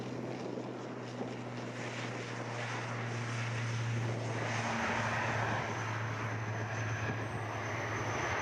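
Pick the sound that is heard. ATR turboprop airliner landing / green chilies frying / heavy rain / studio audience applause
ATR turboprop airliner landing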